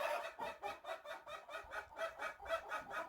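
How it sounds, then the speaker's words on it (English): Chickens cluck in rapid, agitated bursts inside a coop, repeated pulses of fussing hen calls close by with no talking. "I can hear my chickens. Oh my gosh, they're just throwing a fit."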